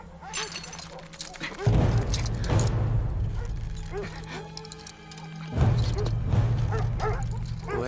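Several dogs bark and yip in bursts over a loud, busy scene, with people shouting and talking throughout as the pack closes in.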